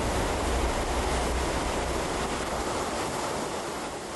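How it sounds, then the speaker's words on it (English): A lahar, a volcanic mudflow of debris and water in the valleys around Pinatubo, rushing downstream as a continuous loud broadband roar like heavy surf, steady throughout with no voices. "Lahars form when a large amount of debris rapidly mixes with a huge amount of water."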